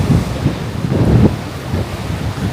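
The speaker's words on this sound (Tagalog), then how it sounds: "Lakas ng hangin, grabe" Strong wind at a Taal Volcano viewpoint buffets the microphone in loud, rumbling gusts that swell and ease, with no voices.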